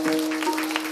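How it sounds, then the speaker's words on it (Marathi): Audience clapping hands at a Marathi devotional kirtan, a brief steady burst of many hands with a sustained tonal drone underneath. "हातवरती करा, टाळी वाजवा."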